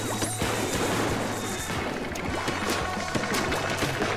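Repeated airstrike explosions and sharp crashing hits sound in a Splatoon 2 Tower Control match. The blasts are loud and close, landing in quick succession over a constant droning game background.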